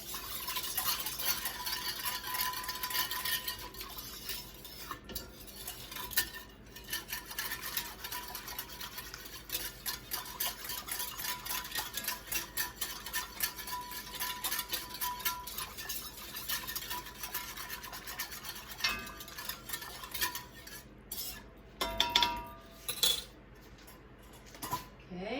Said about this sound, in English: This is the flour and broth. So whisk that in.